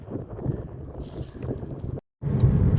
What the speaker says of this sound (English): Hear that wind blowing, y'all.